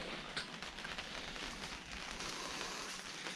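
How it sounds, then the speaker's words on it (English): Rain falling outdoors around a parked Suzuki Alto Works, a soft continuous hiss of drops pattering on surfaces, faint and steady throughout with no voices. "Got the Alto back in just as it started raining."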